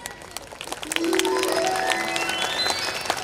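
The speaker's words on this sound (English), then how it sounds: "A round of applause for my dear audience" Audience applause at a school annual function, rising after about a second into a steady, moderately loud clapping wash, with a few high tonal sounds and faint voices mixed in.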